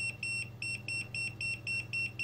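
A multimeter's non-contact voltage detector beeps in a fast, regular series of about ten short high-pitched tones over a faint low hum, close and clear with no talking.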